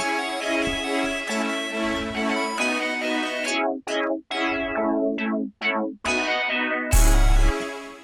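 A looping synth beat in FL Studio runs under Fruity Loop Filter automation, with sharp swept filter cuts and rising gaps chopping the sound before a loud, dense final burst.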